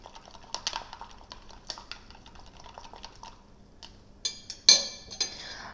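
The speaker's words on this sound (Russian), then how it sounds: "Я еще немножко помешаю ее с помощью палочки." A small stick stirs a homemade peptide face-cream emulsion inside a glass, giving a run of light, irregular clinks and taps. The taps grow into a few louder, sharper knocks against the glass near the end, with no voices.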